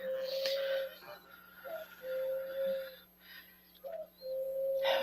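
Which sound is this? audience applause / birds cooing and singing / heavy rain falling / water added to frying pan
birds cooing and singing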